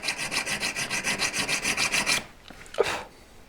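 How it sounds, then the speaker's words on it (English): A metal file rasps against a V-claw jewelry setting in steady, rhythmic back-and-forth strokes, close and clear, about a dozen even passes before stopping, followed by a few faint handling clicks. "Keep a check on how you're tilting the file, go that way or that way."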